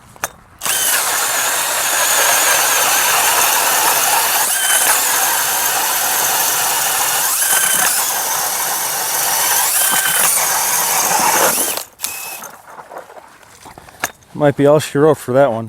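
Cordless DeWalt or Ridgid Octane ice auger grinds through ice in a loud, continuous whirring drone for about eleven seconds, then stops abruptly, followed by a spoken remark and faint rustling.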